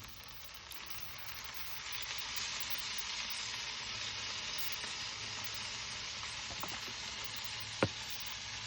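Boston butt sizzling and frying beneath hot coals on a charcoal grill, a steady close crackling hiss throughout with a sharp pop near the end.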